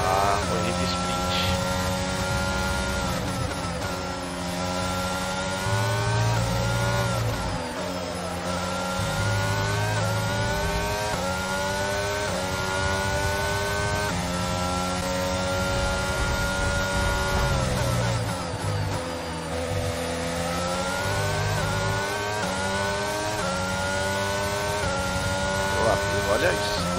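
Formula 1 cars in the racing game F1 22 at the start of a sprint race at the Austrian circuit, a dense layered whine of engines rising and shifting through gears; several cars are heard together.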